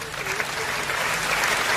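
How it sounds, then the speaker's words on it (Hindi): An audience at a Hindi comedy poetry gathering claps steadily for a couple of seconds, a dense, even wash of many hands. "तो एक बार इनके लिए तालियां बजा दो"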